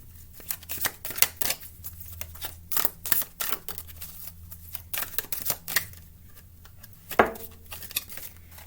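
A deck of tarot cards is shuffled by hand, with cards popping loose: a rapid, uneven run of crisp papery snaps and riffles. There are short pauses between bursts and one sharper slap near the end.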